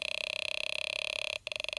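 A Snap Circuits Extreme SC-750 oscillator circuit gives a loud, steady buzzing drone with fast, regular pulsing, like a racing video game engine, breaking off briefly near the end before resuming.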